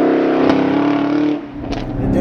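A 2022 Chevrolet Camaro SS with the 1LE package powers through a corner on a slightly damp track, its engine a loud, steady droning roar that dips briefly and then swells again.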